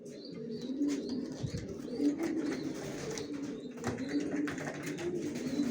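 Racer pigeons coo steadily in a loft, a dense overlapping murmur of soft throaty calls close by, with a few sharper chirps and faint wing flutters mixed in.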